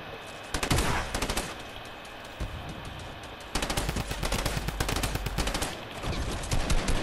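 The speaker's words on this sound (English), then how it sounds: "Why the hell was I using a drum gun?" Fortnite drum gun firing in rapid, sustained automatic bursts, two long loud volleys separated by a brief pause, with a short burst at the start.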